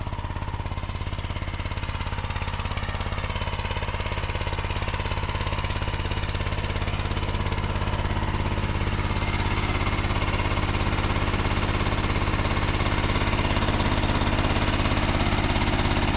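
A Honda 13 hp engine drives an 8-metre pressure pipe pump, running loud and steady throughout with a continuous mechanical drone and rapid knocking pulse.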